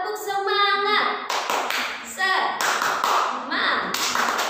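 Children in a primary school class beat out a rhythmic group clap in quick bursts of taps and claps, with voices chanting and calling along between the beats.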